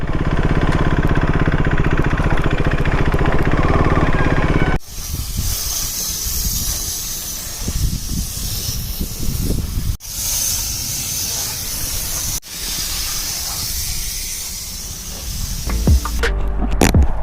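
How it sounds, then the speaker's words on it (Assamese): A pressure washer blasts water over a KTM RC390 motorcycle at a washing ramp, a loud, steady hissing spray that stops and restarts in several long bursts. "তো ৰেম্পত বাইকখন ধুওৱা হৈ গ'ল।"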